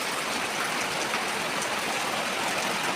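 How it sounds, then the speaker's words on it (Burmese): Heavy rain pours down steadily in Yangon during flooding, a dense, even wash of drops drumming on surfaces and running water, close and unbroken with no voices. "ရန်ကုန်မှာမိုးရွာတာရေတောင်တက်မြုပ်တယ်"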